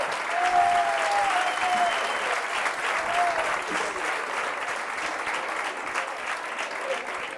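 Loud, sustained applause from a comedy show audience, dense clapping throughout, with a brief voice or whistle-like sound near the start.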